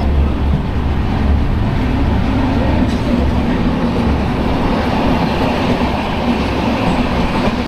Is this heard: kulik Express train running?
yes